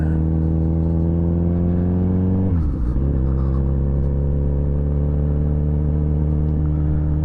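Kawasaki Z900RS motorcycle with an Akrapovic exhaust rolling gently along a gravel road, its engine a steady, close, deep drone that dips briefly partway through before settling back to an even hum.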